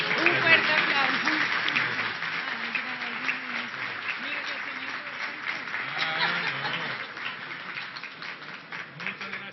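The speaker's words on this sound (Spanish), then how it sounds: "Un fuerte aplauso." Audience applause at a Colombian economic forum honouring the finance minister on his birthday, a steady dense clapping that fills the whole stretch, with voices and murmurs mixed in underneath.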